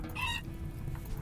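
A chicken in the video game RimWorld gives a short, bright cluck burst near the start, then falls silent, leaving a steady game background hum.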